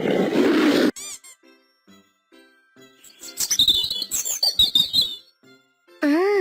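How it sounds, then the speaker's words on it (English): A lion gives a loud, rough roar that fills the first second, then gives way to quieter sounds, brief voices and bright chirping later on. "Lion, lion."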